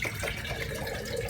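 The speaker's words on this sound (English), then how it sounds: "Now once you pour the water out" Coconut water pours out of a coconut opened with a corkscrew-style tool, running as a steady, continuous liquid stream from start to finish.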